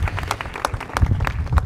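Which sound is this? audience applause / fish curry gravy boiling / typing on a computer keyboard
audience applause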